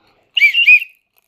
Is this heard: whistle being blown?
yes